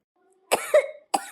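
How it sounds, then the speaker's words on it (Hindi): A person coughs, one sharp raspy cough and then a second shorter one, close and fairly loud with no talking. "मुझे तो खांसी हो रखी है"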